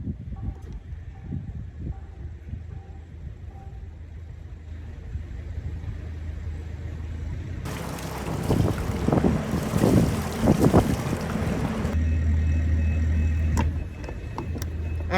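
A boat engine throttles up in reverse while the boat is tied to the dock lines: a low steady rumble that swells louder in the middle and then eases, with wind buffeting the microphone throughout.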